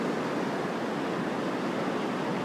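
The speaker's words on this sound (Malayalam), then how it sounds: "ആഞ്ഞലയ്ക്കുന്ന കടൽ, ആഞ്ഞിരമ്പുന്ന കടൽ, അറബിക്കടൽ" Rough monsoon Arabian Sea surf pounds the shore at Kollam under an overcast sky, a dense, even roar of crashing waves with no break and no voices.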